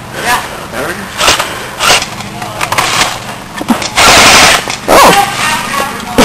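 Airsoft guns firing during a game: sharp, loud bursts of rapid popping mixed with clattering impacts, close by, with players talking and shouting over the shots.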